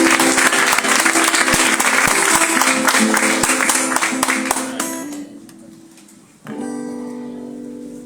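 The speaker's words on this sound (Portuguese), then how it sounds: "Aplauda ele, amém?" A church congregation at an evening worship service claps together in loud, dense applause with music underneath, fading out before a sustained keyboard chord enters.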